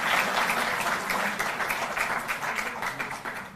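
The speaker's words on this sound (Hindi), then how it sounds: "जोरदार ताली इनके लिए" Crowd at a ceremony honouring national-level school sports players breaks into steady, loud applause, many hands clapping together and fading slightly toward the end.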